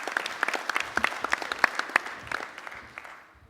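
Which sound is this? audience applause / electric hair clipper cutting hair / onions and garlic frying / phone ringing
audience applause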